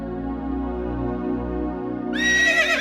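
A horse whinnies loudly in a comedy scene, a rising, quavering neigh bursting in near the end over a steady musical background.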